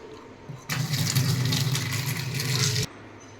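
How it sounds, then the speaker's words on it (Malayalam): A steady rush of water poured off cooked rice from a pressure cooker starts abruptly, runs for about two seconds close up, then stops. "അപ്പോൾ നമുക്ക് ഈ വെള്ളം ഊറ്റിക്കളയണം."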